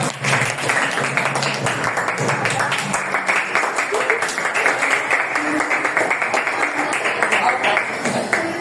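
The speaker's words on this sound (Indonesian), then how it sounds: "Tepuk tangan" Clapping from a classroom audience after a group presentation, fairly dense and steady throughout with voices faintly mixed in beneath.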